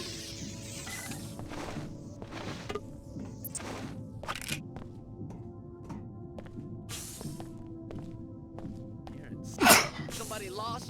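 One sharp sneeze bursts out near the end, louder than the surrounding game noise and intermittent talking.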